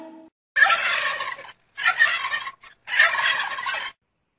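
A turkey gobbles three times in a row, each a loud rapid warbling burst heard up close with short pauses between, and no voices present.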